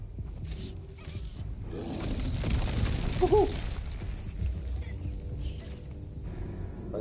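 A Confringo fire-spell blast in Hogwarts Legacy, a low rumbling explosion that swells and lingers for several seconds amid other game effects, with a brief voice over it.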